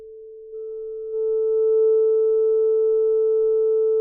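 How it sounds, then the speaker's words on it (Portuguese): A steady pure sine test tone at 440 Hz, the note A, sounds alone for about four seconds, growing slightly louder as it plays, with faint harmonics above. "440 Hz é a nota Lá."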